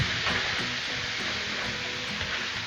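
Hamburger meat and onion sizzling in bacon grease on a Blackstone griddle, a steady broad hiss and crackle that holds constant throughout at moderate loudness, with no voices.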